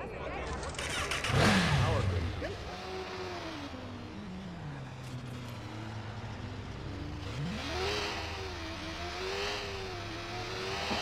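A delivered car in Watch Dogs revs its engine, rising and falling in pitch through several sweeping surges under a steady mid-level drone, with a sharper burst early on and a background hiss throughout.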